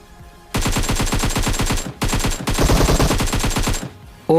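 Automatic gunfire from the video game PUBG Mobile, fired at a bot: two loud, close bursts of rapid shots, the second longer after a brief gap, with no talking.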